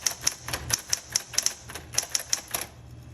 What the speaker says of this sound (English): let's go ahead and type some sentences.